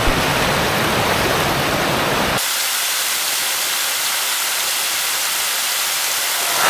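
Mannix Creek Falls in northern British Columbia pours down near a highway, a constant broad rushing hiss of falling water that shifts abruptly in tone partway through and then roars on evenly.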